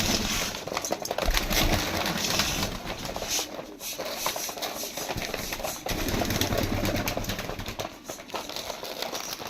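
Pigeons kept at feeding time coo softly and steadily at close range, a low murmuring chorus of overlapping coos running throughout alongside light rustling and scratching sounds.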